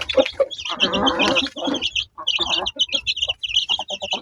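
Chicks cheep in rapid high bursts in a farm coop while hens cluck and murmur nearby, close and busy throughout.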